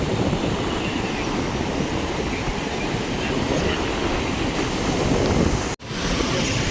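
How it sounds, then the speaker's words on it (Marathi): Large sea waves roll onto a beach as the tide rises, a dense, steady roar of surf that fills the whole stretch, cut by a brief dropout near the end. "लाटा पण मोठमोठ्या येतात आता."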